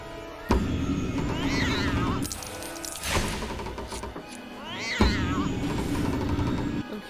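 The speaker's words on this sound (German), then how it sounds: "Kann die Katze nicht mal kurz im Moment still sein?" A cat in Lego Harry Potter meows repeatedly, two drawn-out yowls a few seconds apart over a busy game background, with thuds marking the start of each cycle.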